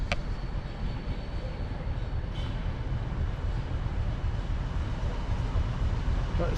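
Steady heavy rumble of a Class 50 diesel locomotive on the Dean Forest Railway, a broad continuous roar holding level throughout at moderate distance, with no talking.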